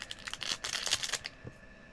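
Scissors snip through toy packaging in a quick run of close, crisp cuts and crinkles, then stop.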